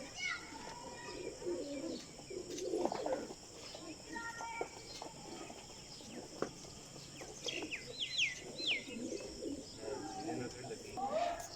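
Breeder pigeons coo softly and steadily close by, with occasional chirps and people talking faintly around them.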